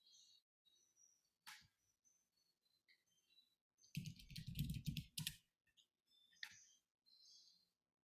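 Typing on a computer keyboard, quiet scattered clicks in short bursts with a denser flurry of keystrokes in the middle, close and faint in a quiet room.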